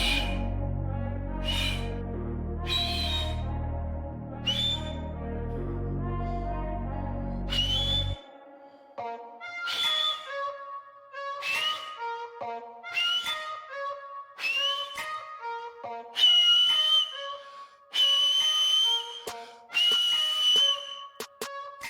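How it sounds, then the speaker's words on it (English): Loud finger whistles practiced in repeated short bursts, piercing and close, with a musical backing track under the first several seconds and then the whistles alone with pauses between them. "I think I can use this same principle to make the taxi whistle even easier"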